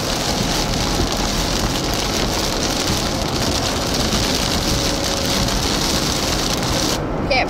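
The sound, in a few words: hail and rain falling during a storm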